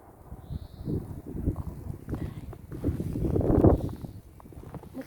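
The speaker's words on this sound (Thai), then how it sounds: "คืนนี้ก็ลมทั้งคืน" Strong wind blows at night in snowy Finland, a rough gusting rumble that builds and fades over several seconds.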